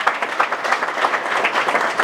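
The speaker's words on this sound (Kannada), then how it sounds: "ವಿದ್ಯಾರ್ಥಿಗಳು ಜೋರಾದ ಚಪ್ಪಾಳೆಯನ್ನ" Students clapping loudly together, a dense, continuous burst of applause close to the listener, with no voices over it.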